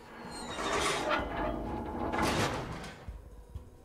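Door sliding open in the shelter-survival video game Sheltered 2, a soft rumbling scrape that rises twice over a few seconds, then trails off into quieter rattles.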